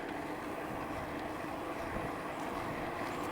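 Carbon fiber electric bike, an Eclio Lumeo 2, riding under throttle: a continuous broadband whir and rush mixed with wind noise, steady and loud throughout with no pauses.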